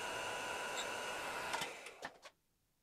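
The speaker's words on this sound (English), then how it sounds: "Half an hour setup, 10 seconds grinding." A Clarkson cutter grinder grinds a milling cutter in a workshop. A loud, steady whine with a constant tonal hum sounds for a couple of seconds and ends in a few scraping touches before cutting off to near silence.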